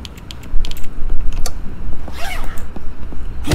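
Computer keyboard typing in the Internet Cafe Simulator 2 video game, a run of quick clicky keystrokes in short bursts with a brief mechanical creak partway through, fairly close and clear with no talking.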